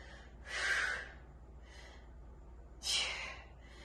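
Two forceful breaths during a sit-up exercise workout, each a short airy rush lasting about half a second, spaced roughly two seconds apart, close and fairly soft with no talking between them.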